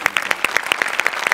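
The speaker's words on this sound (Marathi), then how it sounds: "एकदा जोरदार टाळ्या ह्यासाठी." Audience applause in a hall after a stage performance: a short burst of quick, sharp, evenly spaced claps, close and bright, lasting just over a second.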